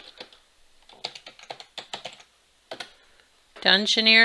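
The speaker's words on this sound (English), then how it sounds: "So I'm going to type dungeoneer's" Typing on a computer keyboard produces irregular bursts of close, crisp key clicks with short pauses between them, and a voice starts speaking at the end.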